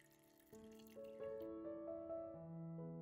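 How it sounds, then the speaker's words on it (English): Hot water poured from a kettle into a jar holding vinegar, mint and a slice of lime, a quiet continuous pour whose ringing tone climbs as the jar fills. "Then fill the jar with hot water."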